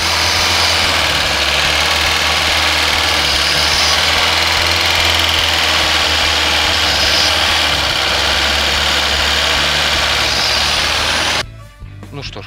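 Carbureted VAZ 2109 engine running after being started, with a loud, steady idle drone and slight vibration throughout, then abruptly dropping off near the end.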